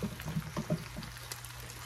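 Sliced summer squash tumbles into a cooking pot in a quick burst of soft, rattling thuds that fade within a second, close and fairly quiet over a low kitchen hum.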